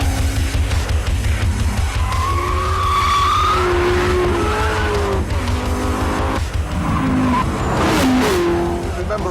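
Corvette ZR1 skidding on a race track: loud tire squeal rising and falling in long wavering streaks over a thick engine roar, close and continuous, with brief bursts of revving between slides.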